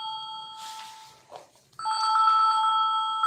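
A telephone rings with a bright electronic warble, one burst of ringing, a short gap, then a second ring that holds steady at close range. No voices are heard.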